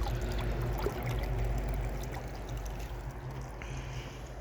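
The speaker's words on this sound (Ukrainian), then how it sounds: "Водичка виходить тепла." Warm water pours steadily from a hose fed by a homemade solar collector into a pool, making a continuous close splashing and gurgling with no talking.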